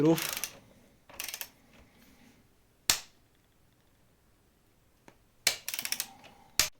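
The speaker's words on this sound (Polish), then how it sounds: "Górną śrubę dokręcamy na 25 Nm." A few sharp metallic clicks and ratcheting bursts from a wrench tightening a crash bar bolt to 25 Nm on a KTM 390 Adventure motorcycle, in short separated clusters with quiet gaps between.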